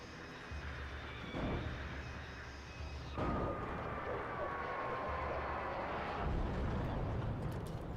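A helicopter going down in the horror game Alan Wake, with a roaring engine and whooshing rotor noise, then a rising rumble and a sustained crash-like roar, loud and continuous.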